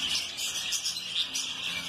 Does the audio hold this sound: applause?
no